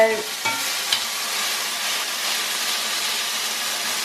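Kidneys for a steak and kidney pie fry in a hot pan with a dense, continuous sizzle. A few clinks of stirring sound near the start, and no one speaks.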